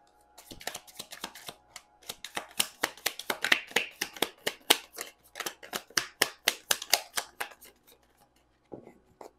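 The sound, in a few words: tarot cards being shuffled and drawn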